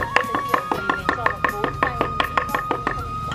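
A knife chops buffalo meat on a board in quick, regular, loud strikes, about a dozen sharp thuds close by with no talk.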